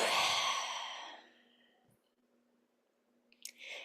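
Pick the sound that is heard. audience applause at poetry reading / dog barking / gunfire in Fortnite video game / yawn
yawn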